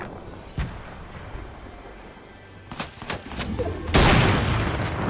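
Sniper gunfire in a Fortnite match, with a few sharp, distant-sounding shots cracking over a constant windy background rumble and a heavier blast near the end; no one talks.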